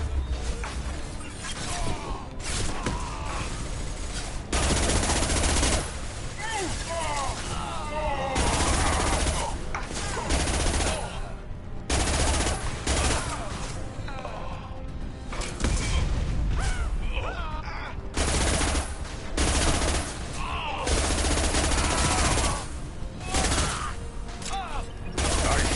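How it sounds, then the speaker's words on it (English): Sci-fi combat in Mass Effect Legendary Edition: dense, continuous rapid-fire gunshots and bursts with crashes and impacts, loud and close, layered with shouting voices throughout. "I'm taking fire!"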